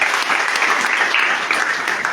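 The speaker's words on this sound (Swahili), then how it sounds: "Si wengine tuwapigie makofi" A church congregation at a Sunday main service applauds its representatives, with steady, dense clapping from many hands filling the room throughout.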